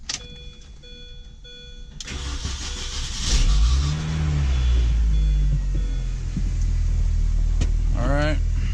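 A 2000s Mini Cooper S R53 with a fresh clutch install starts and runs, a steady low engine drone building after a brief crank, with people talking nearby.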